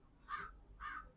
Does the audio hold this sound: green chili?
no